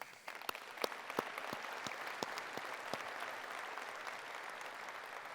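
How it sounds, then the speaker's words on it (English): A round of applause fills a room at an industry show's grand opening breakfast, steady clapping from a seated crowd at moderate distance, with sharper individual claps standing out early and the sound holding evenly throughout. "Please give a nice round of applause to Mark Stout and Karen Davidson from the folks at PRI"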